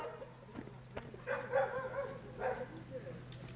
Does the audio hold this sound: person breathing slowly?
no